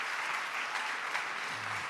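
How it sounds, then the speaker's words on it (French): An audience at a Montpellier business roundtable conference in 2022 claps steadily, a dense, even burst of applause from a full room that continues without a break. "on va les applaudir évidemment"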